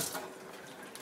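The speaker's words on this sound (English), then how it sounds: "once you're done, we just give it a good little rinse" Water runs steadily while wild edible plants are rinsed, a faint continuous splash and trickle heard alone for about a second.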